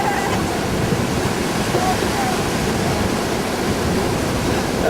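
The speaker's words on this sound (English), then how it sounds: "Wow, here we are on the beach." Strong wind and surf on a beach, a dense, loud, continuous roar of crashing waves and gusting air with no pauses, filling the whole clip.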